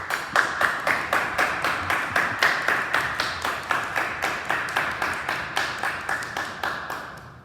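An audience at a 2020 mock presidential debate claps for Democratic candidate Joe Biden: a steady run of crisp, evenly spaced claps at moderate loudness, continuing throughout with no one talking.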